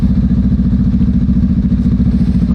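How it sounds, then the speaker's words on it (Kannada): A Honda Transalp adventure motorcycle idles close by before a group ride, its engine throbbing in a loud, even, rapid pulse that holds steady throughout with no talking. "ಟ್ರಾನ್ಸಾಲ್ಪ್ ಸೌಂಡ್ ನೋಡಿ"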